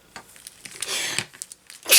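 A single person's sneeze, a short sharp burst near the end that follows a stretch of soft breathing and small rustles, close and loud with nothing else around it.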